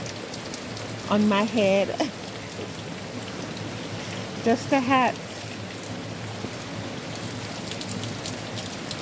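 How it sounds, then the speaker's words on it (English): Steady rain falls across a front garden on a late October day, a broad constant patter close around, with a voice speaking briefly twice over it. "it's raining and I'm actually in the rain with just a hat"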